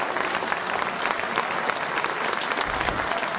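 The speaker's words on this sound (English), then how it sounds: "Receives a well-earned round of applause" Football crowd in a Newcastle stadium at an A-League match applauding a save, a continuous wash of clapping spread across the stands, steady and fairly loud throughout.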